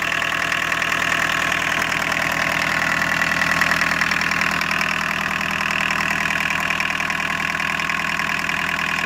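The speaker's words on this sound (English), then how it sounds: "I'm sure that the microphone's picking up that turbo whine." A 1981 VW Rabbit pickup turbo diesel with a VNT15 turbo idles steadily nearby, its even knocking rumble joined by a sustained high turbo whine that holds constant throughout.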